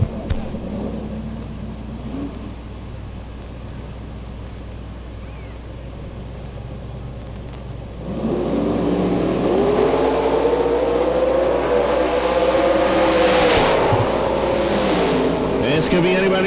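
Drag race launch at the 2012 Yellow Bullet Nationals, an '86 Camaro with a 427 against a nitrous-fed '93 Fox Body Mustang with a 398 cubic inch engine; low idle gives way to a loud, sustained roar of rising engine tones under commentary.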